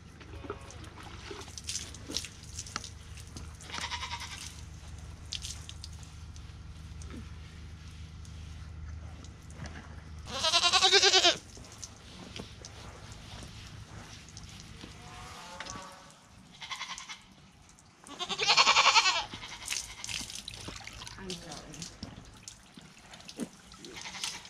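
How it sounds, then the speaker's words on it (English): A goat bleats loudly during a bath, with two strong cries standing out and a few fainter calls between them. Trickling water and handling noises run underneath. "You may not be a little show goat, Lightning, but that doesn't mean you can't look a little better"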